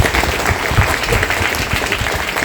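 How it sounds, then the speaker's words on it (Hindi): Dense, steady applause from a large audience fills the space for a comic poet at a Hindi fortnight event, a continuous loud wash of many hands with no gaps. "पर तालियां ऐसे बजाओ कि कवि कहे क्या बात है"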